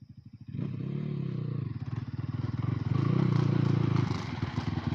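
A Crossfire RM250 dirt bike runs close by, its engine settling into a loud, steady, rapidly pulsing drone that swells as it is revved, with some clattering alongside.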